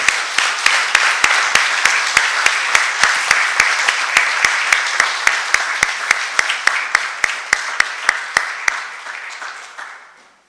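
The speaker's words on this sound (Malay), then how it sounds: "Tepukan yang gemuruh untuk beliau." Thunderous audience applause at the Anugerah Persuratan 2023 literary awards ceremony for an award winner, a dense sustained roar of clapping with regular sharp claps on top, tailing off near the end.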